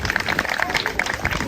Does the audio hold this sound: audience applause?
yes